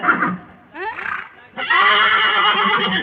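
A horse neighs loudly and close by in two bursts: a short whinny, then after a brief pause a longer, sustained neigh that fills the second half.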